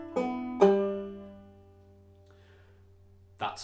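A bar of clawhammer banjo: a few plucked notes ring out with a bright attack and slowly decay, followed by a short pause and another strummed note at the end.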